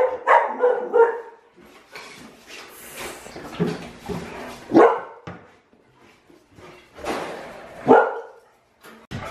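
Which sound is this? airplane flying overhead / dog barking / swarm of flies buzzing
dog barking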